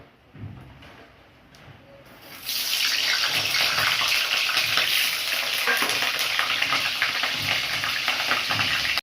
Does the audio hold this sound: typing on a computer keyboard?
no